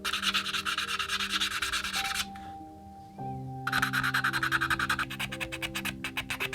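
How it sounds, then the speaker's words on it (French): Sanding the rounded edges of a leather card holder flap, a steady close rasping rub that pauses briefly midway, then resumes in quick rhythmic strokes. "Maintenant je vais un peu améliorer la découpe de mon rabat en ponçant les arrondis."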